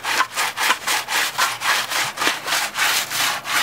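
A brush scrubs a wheel with dish soap and water in steady back-and-forth strokes, about three per second, a loud close rasping rhythm with no talk.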